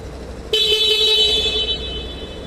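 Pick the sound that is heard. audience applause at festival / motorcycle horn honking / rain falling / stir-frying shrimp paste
motorcycle horn honking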